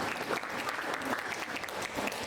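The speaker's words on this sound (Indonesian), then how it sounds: "Tepuk tangan untuk para perempuan." Sustained applause from a group at a high school graduation fills the whole stretch, a steady wash of clapping at moderate volume.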